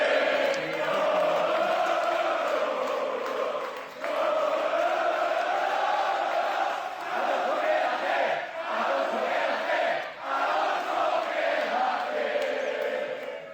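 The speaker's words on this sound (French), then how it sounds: "Voilà comment a répondu la foule sur le circuit de Catalogne." Large crowd at the Circuit de Catalunya, a motor racing track, roaring and chanting for Fernando Alonso, a sustained loud mass of voices swelling and dipping over several seconds.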